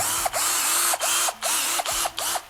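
A cheap 19-euro cordless drill bought on Amazon, whirring in short bursts with a whining motor that starts and stops about five times in quick succession, close and fairly loud.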